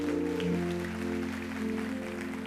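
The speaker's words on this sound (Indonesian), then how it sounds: "Kasih tepuk tangan untuk Tuhan." A church congregation applauds during a sermon, a dense wash of clapping held steadily under sustained organ or keyboard tones, moderately loud throughout.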